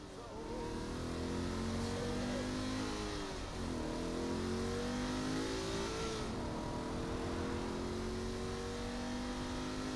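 In the video game Saints Row: The Third, a big vehicle's engine revs loud and close, climbing and falling in pitch through repeated gear shifts and lasting for the whole stretch.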